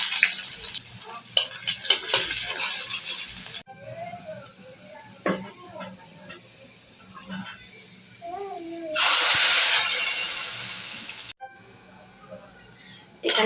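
Garlic and chopped onion dropped into hot oil for a lentil tempering with dried chillies, giving a loud, steady sizzle for a few seconds amid quieter kitchen clatter and stirring.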